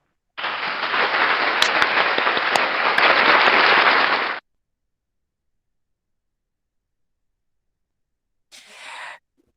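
Audience applause at a virtual forum, a broad steady burst of clapping lasting about four seconds, then silence, followed by a short faint second patter of clapping near the end.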